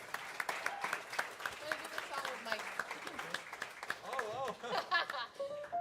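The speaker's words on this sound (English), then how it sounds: "Give a round of applause to them." Applause from a club audience at the Bop Stop jazz venue, honoring the staff during a live quartet show; scattered, moderately loud clapping mixed with talk and voices over it.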